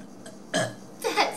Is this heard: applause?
no